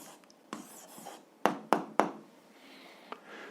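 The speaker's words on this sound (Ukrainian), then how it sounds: "пишемо відповідь" A pen writes out the answer to a grade 7 algebra exercise by hand, giving a few quiet, sharp taps and strokes with short gaps between them, close by and alone.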